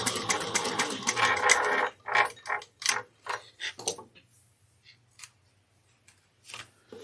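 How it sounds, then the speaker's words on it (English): A sewing machine bastes a label onto a handbag in a short burst of rapid stitching, followed by a few separate mechanical clicks and taps that thin out into quiet. "going to add the label here. Just baste that down 1/8 of an inch."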